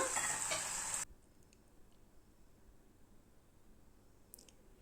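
Gongura sorrel leaves and chana dal curry are stirred in a pan, a brief close scraping burst lasting about a second before things fall almost silent.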